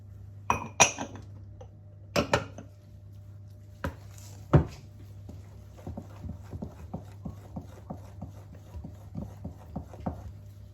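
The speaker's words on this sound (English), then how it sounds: "you want to mix for a while to get everything together, all your spices" A spoon stirring Jamaican cornmeal pudding batter with nutmeg and spices in a bowl, a few sharp clinks against the bowl, then a steady rhythm of quick light taps and scrapes, close with no talking.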